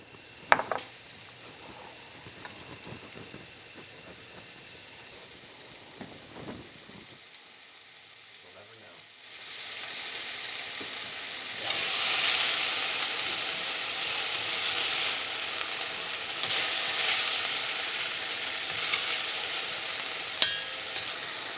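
Lamb pieces browning in olive oil in a pan, a low sizzle at first that swells into a loud, steady frying hiss partway through, continuing without speech.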